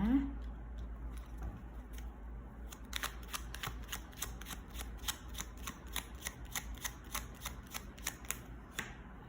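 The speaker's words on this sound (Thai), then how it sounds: "เดี๋ยวขอขยับไพ่หน่อยนะ" Tarot cards are shuffled close by, with a steady run of crisp, rapid riffling flicks that grows more regular after the first few seconds, following a brief murmur at the start.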